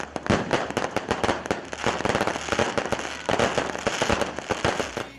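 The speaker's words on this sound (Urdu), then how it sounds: "اس موقع پر کارکنوں کا لہو گرمانے کے لیے زبردست آتش بازی بھی کی گئی۔" Rapid, dense bursts of fireworks and firecrackers at a political rally on a parade ground, loud and continuous crackling pops rattling in quick irregular succession throughout.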